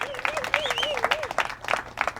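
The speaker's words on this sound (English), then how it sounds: "can we just give him a round of applause" Short round of audience applause at an event introducing a musician, loose clapping from a crowd while someone whistles or vocalizes a wavering tone over it.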